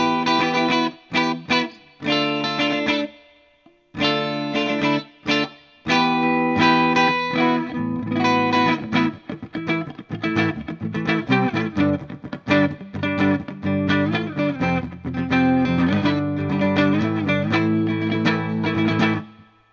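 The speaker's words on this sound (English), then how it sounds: "That's a reverb, turned out about 9 o'clock." An electric guitar plays through a Hughes & Kettner TubeMeister 36 tube amp with light reverb, giving distorted strummed chords and riffs with brief pauses, loud and close with a slight tail.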